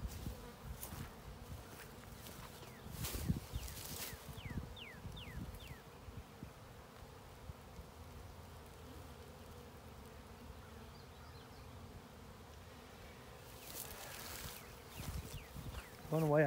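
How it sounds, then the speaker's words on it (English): A steady insect buzz of a honeybee swarm on a box in a cedar tree hums throughout, with occasional louder passes and a few faint voices or rustles in the background. "And that's why we see so many bees gathered up on the box."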